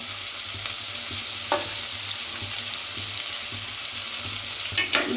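Onions frying in a pan for an avarekalu usali dish, a steady sizzle under a couple of sharp stirring scrapes, close and alone with no voices.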